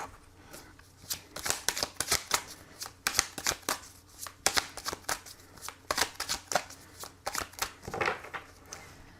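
Tarot cards are shuffled by hand in quick, crisp bursts of riffling and slapping, close and clear, in repeated rapid rounds with brief pauses between them.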